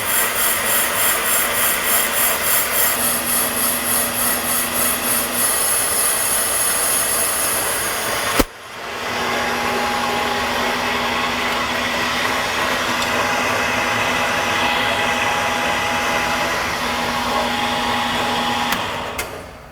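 A brake lathe machines a car brake drum, giving a loud continuous whirring grind with a steady tone that cuts out sharply midway, then resumes and runs on evenly.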